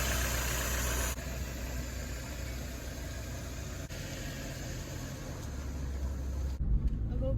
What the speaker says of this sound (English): Sounds like the motor's running nice.